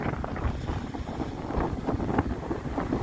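Steady wind blows across a lakeside on Lake Victoria on a breezy morning, a continuous loud rushing roar with gusty buffeting against the microphone and no voices.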